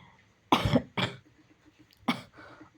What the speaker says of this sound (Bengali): আর আমাকে কাশি হয়ে গেছে